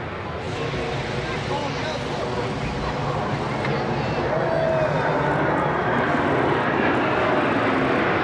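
A C-17 military transport aircraft flies past at a coastal airshow with a loud, steady broadband jet roar that fills the whole stretch, with crowd babble faintly mixed underneath.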